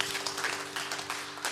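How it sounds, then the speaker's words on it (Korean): A Korean church congregation clapping during a Sunday worship service, soft and fairly even, with a low sustained organ-like tone humming beneath. "우리 주님께 영광의 박수를 드립니다"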